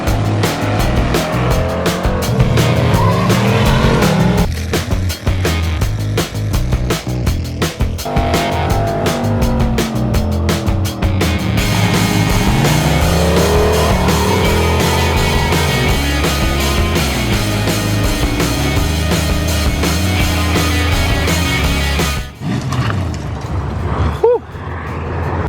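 A twin-turbo OBS street truck roars loudly along the street, its engine droning and surging with shifting pitch and occasional tire noise, continuous and close throughout.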